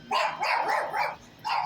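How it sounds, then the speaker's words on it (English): A small Chihuahua dog yaps several times in quick succession, close and sharp, with short gaps between the barks and no voices. "Boy, I sure spooked that little Chihuahua dog"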